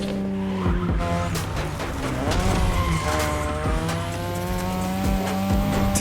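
A 2002 third-generation Mazda RX-7 with a rotary engine racing in The Crew Motorfest. The engine screams loudly and shifts pitch through the gears, with tires squealing and skidding, and no talk over it.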